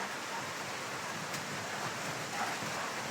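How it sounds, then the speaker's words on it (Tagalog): Heavy rain falls steadily with gusty wind, a continuous broadband hiss of downpour that stays even throughout, fairly faint and without speech. "Yan, napakalakas po ng ulan"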